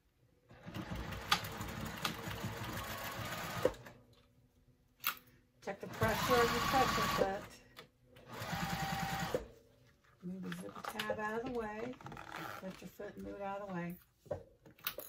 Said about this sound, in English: now we're going to stitch this down with a 1/4 inch seam allowance